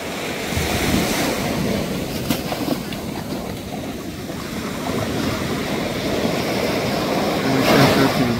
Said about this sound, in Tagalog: Ito yung isang surfing spot dito sa Siargao, yung Ocean 9. Ang ganda ng dagat, oh.